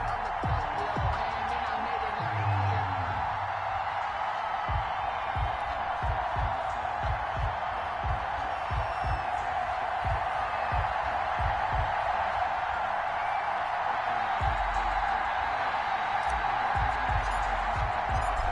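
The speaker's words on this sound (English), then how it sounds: "This crowd is ready as their guys get set to match up between the Miami Dolphins and the New York Jets." A stadium crowd in an EA Sports football video game, before Miami Dolphins versus New York Jets, keeps up a steady, dense roar. Low rhythmic thumps run beneath it throughout.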